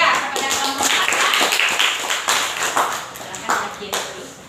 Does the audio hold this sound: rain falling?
no